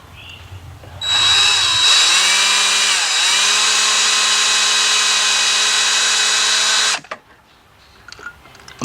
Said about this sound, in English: we're gonna be using our DeWalt 90-degree angle drill.